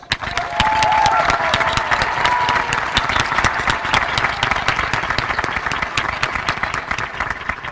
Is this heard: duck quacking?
no